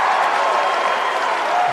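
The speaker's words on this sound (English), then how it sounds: "Crowd making a lot of noise here inside the historic Brush Fork Armory." Basketball crowd inside the historic Brush Fork Armory roars and applauds, a loud sustained wash of cheering that fills the gym throughout.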